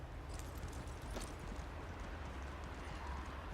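Horse hooves clip-clop steadily in the video game The Elder Scrolls Online, under a dense, constant wash of background noise that partly masks the footfalls.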